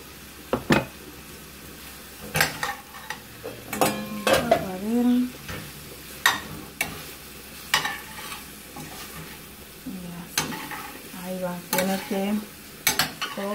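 Garlic frying alongside pork chops in a pan, a soft steady sizzle punctuated by repeated sharp utensil scrapes and clanks against the pan, with brief muffled vocal sounds in between.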